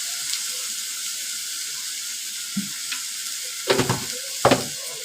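Val beans with salt sizzle steadily in a pan, under a soft constant hiss, with a few sharp scraping clatters from stirring near the end.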